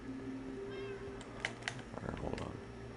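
Cat meows in the Minecraft video game, a couple of short mewing calls over game background sound with faint clicking like keyboard typing.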